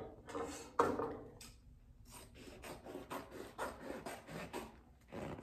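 Excess vinyl being cut away from a round bar stool top during upholstery, heard as a series of close, rhythmic rasping and scraping strokes with one sharp louder snip early on and no talking.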